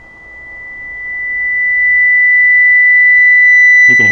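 A steady, high-pitched pure test tone holds at one constant pitch throughout, with faint low hum beneath it and a short click at the end.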